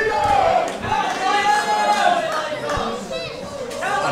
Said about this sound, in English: This Cardiff crowd coming alive for Nino Bryan right now.